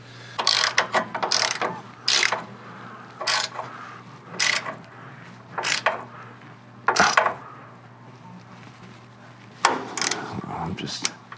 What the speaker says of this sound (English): now I'm gonna torque these down a little bit